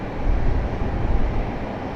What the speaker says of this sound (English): we got an A220 getting ready to start up right here beside us in the alleyway